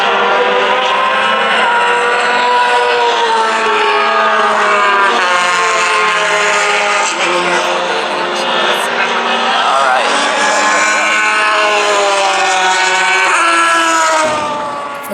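Race cars at a Hoosier Super Tour club race on track, a loud, sustained engine howl with rising and falling pitch as one car closely follows another past an exterior viewpoint.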